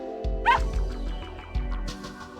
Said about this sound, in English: This is my pet dog, Pee-Pee.